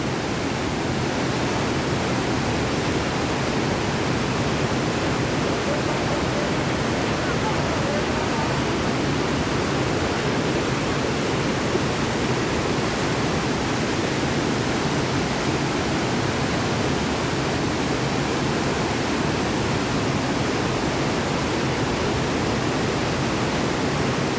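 Dense, steady roar of the flooded Ashwin river rushing near Dhamasiya dam fills the whole clip, loud and unbroken, with no voices standing out.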